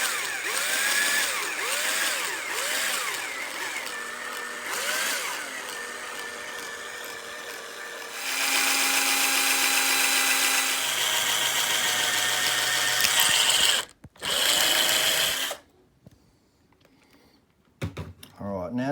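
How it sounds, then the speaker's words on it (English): A power drill whirs in bursts while drilling out wires inside a black sheath, pitch rising and falling, then runs at a steady high whine before stopping abruptly, with a few clicks and clatters afterward. "I'm going to try and drill these wires out"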